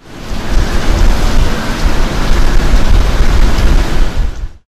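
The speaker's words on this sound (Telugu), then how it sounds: "అల్పపీడన ద్రోణి ప్రభావంతో నెల్లూరు జిల్లాలో భారీ వర్షాలు పడ్డాయి." Heavy rain from a low-pressure trough over Nellore district pours down in a loud, unbroken hiss with a deep rumbling undertone, steady throughout before cutting off abruptly.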